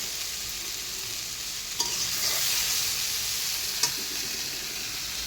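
Jackfruit pieces fry in a pan with a continuous, even sizzle close by, broken by two brief clicks from a utensil, with no talking.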